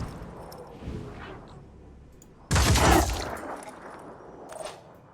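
Automated turret in the Phoenix Point tactical game opens fire in a single loud, dense burst lasting about a second after quiet ambience, then tapering off with a fainter echoing crack.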